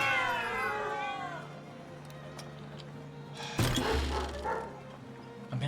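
Cats meowing in the Farthest Frontier video game near a cat kennel: a clear, drawn-out wavering meow opens, followed by fainter game ambience and a shorter cry near the end.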